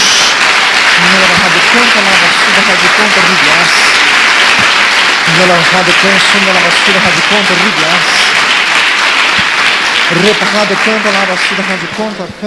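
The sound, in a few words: congregation applause in church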